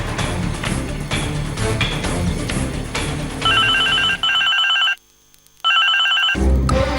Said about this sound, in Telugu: అయ్యో, నా ఫోన్.